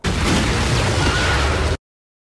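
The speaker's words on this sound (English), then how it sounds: "That was a gunshot noise. That was literally a gun noise." A sharp gunshot-like bang in a racing video game, loud and dense, filling about two seconds with a burst of broadband noise before cutting off abruptly.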